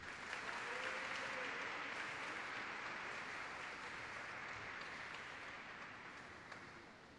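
A crowd at a solemn session for the Day of Black Latin American and Caribbean Women applauds steadily for about seven seconds, a broad even wash of clapping that tapers slightly toward the end.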